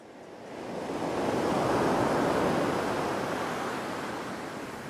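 Atlantic surf rolls in where the Étel river meets the ocean, a broad steady wash of breaking waves that swells and slowly eases. It is loud and continuous with some wind and no voices.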